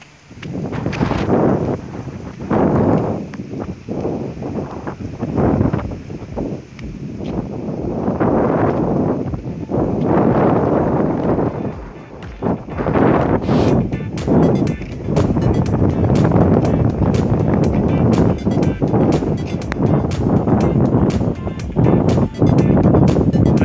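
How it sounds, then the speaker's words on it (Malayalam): Strong wind buffets the microphone throughout a trek up a large rock, a steady roaring rush with gusty surges, loudest and harshest in the second half. "നല്ല കാറ്റുണ്ട്."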